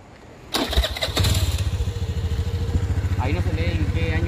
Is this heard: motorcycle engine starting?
yes